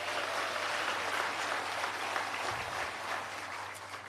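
Audience applause at the Cherokee Nation State of the Nation address: steady, dense clapping from a large crowd filling the space, fading slightly toward the end.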